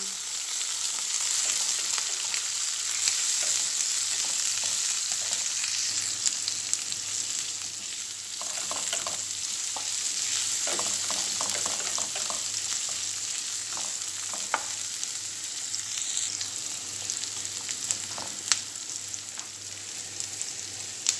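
Onions frying with golden garlic in a pan, a steady close sizzle with intermittent stirring scrapes and clicks, heard alone without talking.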